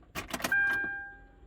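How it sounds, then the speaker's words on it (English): A Hyundai Sonata GLS starter fails to engage properly: a few quick clicks and clunks, then a brief whirring whine as the starter slips without turning the engine over, heard up close. "See, it like wants to start, and then it doesn't turn."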